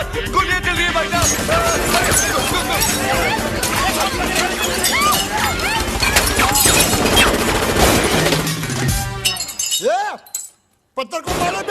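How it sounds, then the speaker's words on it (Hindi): A dense, loud clatter of rapid gunfire bursts and crackling runs under overlapping shouting voices in a Bollywood comedy film scene, then cuts off briefly near the end. "गोलियां कौन चला रहा है रे?"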